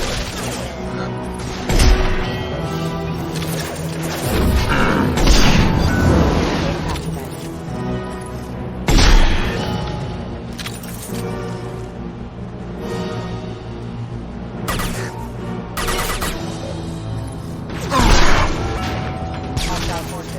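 Gunfire and impacts during a firefight in the video game Mass Effect 2, with loud bursts and crashes recurring over a busy bed of music and effects, while voices talk throughout.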